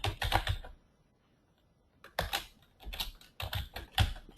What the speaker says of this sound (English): I guess I'll just go see if I can type it in